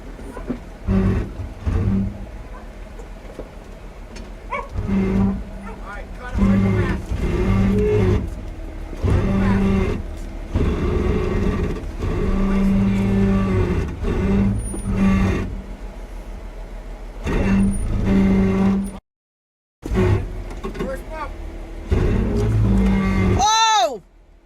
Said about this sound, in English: At this point, we are going down what some call the Chute, and it can look very intimidating from your Jeep.